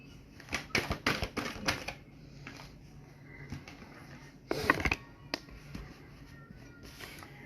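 Tarot cards being shuffled, with a quick run of crisp, close riffling snaps and clicks followed by scattered quieter card taps and a louder flurry near the end.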